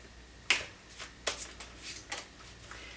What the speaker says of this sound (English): These cards, every time I shuffle them, they just want to fly.